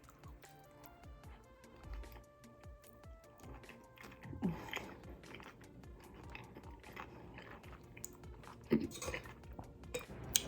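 Crunchy bites into a cucumber, tomato and avocado salad, with soft crisp crunches and chewing that come in uneven bursts, close up but quiet, alongside light clinks of cutlery against a dish.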